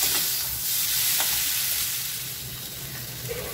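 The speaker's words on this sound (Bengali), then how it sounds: "এবার এই আলুটাকে আমার ভালোভাবে ভাজতে হবে।" Potato pieces fry in a hot pan with a steady, close sizzle and occasional stirring scrapes, continuous throughout with no talking.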